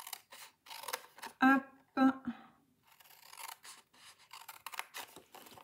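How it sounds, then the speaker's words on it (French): Scissors snip through cardstock for a handmade shaker box mini album, two sharp crisp cuts close up, followed by quieter rustling and handling of the paper, with someone speaking French briefly over the crafting. "Donc, n'hésitez pas à le découper tout de suite."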